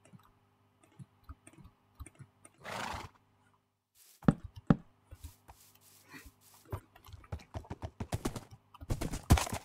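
In the video game Minecraft a horse whinnies, then its hooves clop in a run of sharp, uneven clicks that grows busier and louder toward the end, with short gaps of near silence between bursts.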